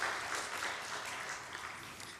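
A congregation at a Korean church's Wednesday prayer service claps to welcome guests, a soft, fairly distant patter of many hands that holds steady and then begins to fade.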